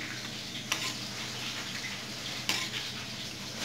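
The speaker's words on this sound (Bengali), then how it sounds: "সমস্ত মশলাটা এবার ভালোভাবে মিশিয়ে নেব" A spice mixture of ground cumin and Kashmiri chili powder is stirred in a pan, a soft continuous sizzle with two sharp spoon clinks against the metal, close and without talk.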